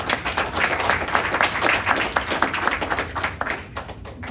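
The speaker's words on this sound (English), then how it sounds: "you guys owe yourself a round of applause" A crowd at a graduation claps and applauds steadily for a few seconds, dense and fairly loud, tapering slightly near the end.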